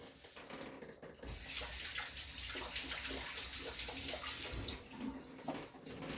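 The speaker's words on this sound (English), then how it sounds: "Let me wash my hands." A kitchen tap runs steadily as hands are washed beneath it, giving a close, continuous splashing rush that begins after a brief quieter moment and carries on to the end, with no one talking.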